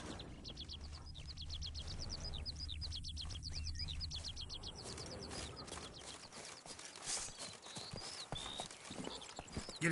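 A horse's hooves clip-clop in a steady rhythm in the Witcher 3 video game, with birds chirping over the top and an ambient game soundscape underneath; the hoofbeats fade into scattered rustles later on.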